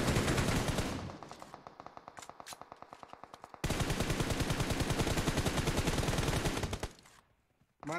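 Rapid automatic gunfire rattles through a BGMI battle royale match: a dense burst, a thinner run of repeated shots, then another loud sustained volley that cuts off near the end.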